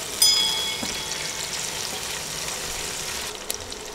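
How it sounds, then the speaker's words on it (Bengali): Sliced onions, two of them, fry in a pan for a rice khichuri, giving a soft, faint, steady sizzle with a light clink near the start. "নেড়ে নেড়ে পেঁয়াজ নরম হয়ে আসা পর্যন্ত ভেজে নিব।"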